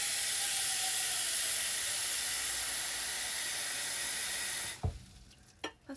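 A pot of water boiling for pasta on a single stovetop burner gives a steady, loud hissing roar of steam that cuts off abruptly near the end, followed by a few soft clicks and knocks.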